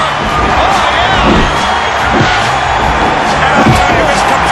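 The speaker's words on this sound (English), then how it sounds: "this capacity crowd is going crazy for these guys. Many are standing and cheering." A capacity arena crowd in a wrestling video game roars steadily, a dense wash of cheering and whoops with occasional thuds from the ring, loud and continuous.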